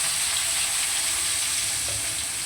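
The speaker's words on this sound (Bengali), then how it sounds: "প্রথমে ভোলা মাছগুলোকে ভেজে নেব।" Large pieces of bhola fish frying in hot oil, a continuous bright sizzle with steady crackling and no voices.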